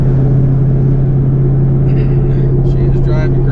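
A Z28 Camaro with a swapped transmission and Yank torque converter cruises in overdrive at about 65 to 70 mph, a steady loud low drone of engine and road noise throughout, with faint voice traces near the end.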